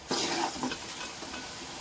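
Garlic and asafoetida frying in hot oil for a home-made tomato pickle, a soft steady sizzle with a couple of brief stirring scrapes near the start, close and fairly quiet, no talking.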